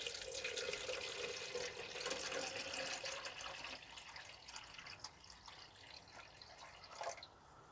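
Water running steadily from a tap into a recycled container at a UK allotment, a soft continuous splashing hiss that eases slightly toward the end, with a faint knock near the close and no talking.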